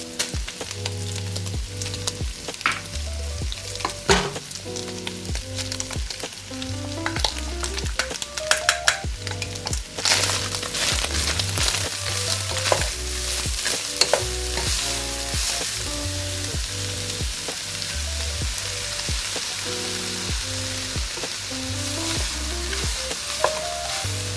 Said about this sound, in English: I'm going to go ahead and put in the peppers, the riced cauliflower, and the onion so it can saute with our ground beef.